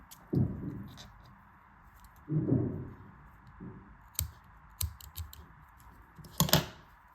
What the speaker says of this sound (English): then you can cut the excess yarn